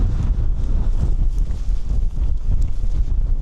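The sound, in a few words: strong wind on mountain summit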